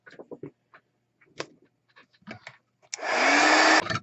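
A handheld hair dryer switches on for about a second to dry stencilled ink on a craft project, a loud whooshing blast following soft handling noises and clicks.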